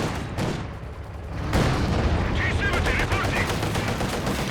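Dense gunfire from a Company of Heroes 2 multiplayer battle, with rapid machine-gun bursts and scattered rifle shots rattling continuously, loud and close, with a burst of heavier fire partway through.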